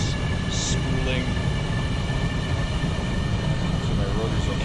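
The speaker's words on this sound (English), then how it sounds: "Hear the jet turbines spooling." Jet turbines spooling up in the video game Stormworks give a continuous, even roar with a thin high whine, and a few brief faint tones flicker over the steady engine drone.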